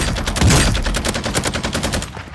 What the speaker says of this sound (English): I'm being shot from every direction.